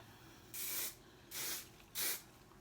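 Hairspray gives three short, close hissing bursts onto hair, each about a third of a second long, with brief pauses between them. The room is otherwise quiet.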